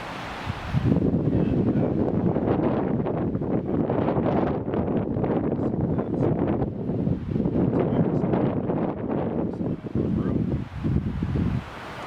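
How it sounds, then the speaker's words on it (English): Wind at a winter camp during a March storm roars steadily against the microphone in loud, buffeting gusts, rustling continuously for the whole stretch with no talk. "this is the part the wind blows in"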